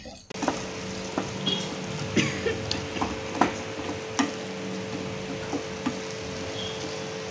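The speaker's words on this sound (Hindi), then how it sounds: "अच्छे से सबको मिक्स कर लेंगे" A spoon stirs chopped tomatoes with ginger and garlic in a pan, scraping and clinking in irregular strokes over a steady close sizzle of frying.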